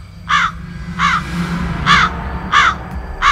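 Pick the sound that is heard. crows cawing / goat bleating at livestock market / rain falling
crows cawing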